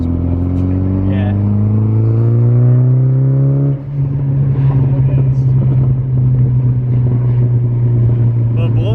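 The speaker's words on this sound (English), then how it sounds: "the blow off valve is definitely doing its thing" A 1999 Saab 9-3 fitted with a crossflow intercooler and blow off valve revs loudly up close, its engine note climbing before a sudden release around midway, then settling into a steady rumble while people talk.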